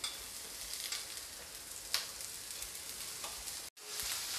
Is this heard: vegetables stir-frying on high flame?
yes